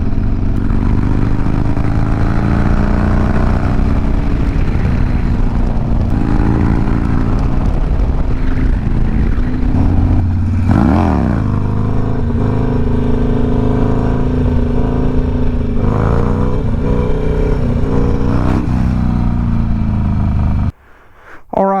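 A 2006 Harley-Davidson Sportster 1200 motorcycle with a Thunder Header 2-into-1 exhaust, its engine rumbling loud and close for about twenty seconds, with several revs rising and falling before cutting off near the end.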